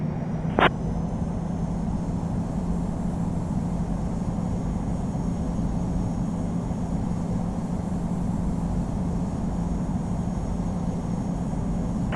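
An Air Canada A220-300 airliner taxis toward the runway at Montréal airport, its engines giving a steady, even cabin-heard drone with a low hum throughout and a single brief click near the start.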